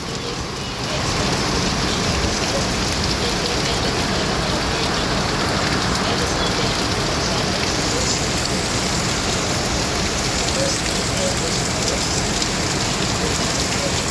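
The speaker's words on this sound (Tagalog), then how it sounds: "Ang lakas ng ulan oh." Heavy typhoon rain pours steadily, a dense, loud, continuous hiss of drops that never lets up.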